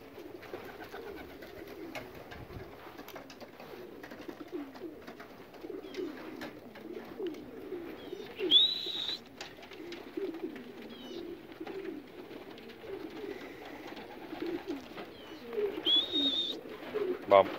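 Racing pigeons returning from a 55-mile race, their steady soft cooing rolling on throughout at close range, broken by brief flutters and a couple of sharper chirps.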